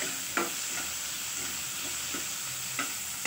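Chopped tomatoes and vegetables sautéing over fried onion in a pan for vermicelli upma, a soft continuous sizzle broken by a few light spatula scrapes and stirring taps, with no one speaking.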